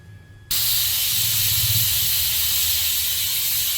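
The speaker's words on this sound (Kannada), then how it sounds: "ಮೂರು ವಿಸಿಲ್ ಕೂಗಿದೆ." A pressure cooker preparing a festival meal for Gowri Ganesha gives a faint thin whistle, then bursts into a loud, steady hiss of escaping steam that continues without a break.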